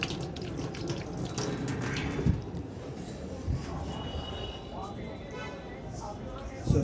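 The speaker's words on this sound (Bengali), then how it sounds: "চলো হাতটা ধুয়ে নিই" Tap water runs steadily into a sink as someone washes their hands, a close continuous splashing hiss with a few louder splashes, while a person speaks over it.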